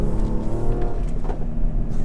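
A 2017 Mercedes GLE43 AMG accelerating hard with traction control off, its engine note rising steadily and broken by gear shifts, heard from inside the cabin with no talking over it.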